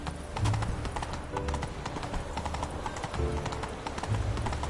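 A horse gallops in The Witcher 3 with rhythmic hoofbeats pounding in a quick, repeating clip-clop pattern, moderately close and continuous without speech.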